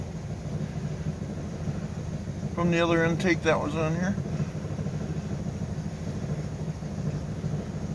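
A 5.7 Hemi V8 with a newly installed Indy Mod Man intake manifold and fouled spark plugs idles high with a steady low rumble, while someone speaks briefly over it.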